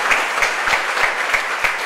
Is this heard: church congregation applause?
yes